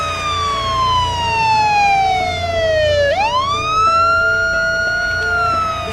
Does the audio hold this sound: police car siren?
yes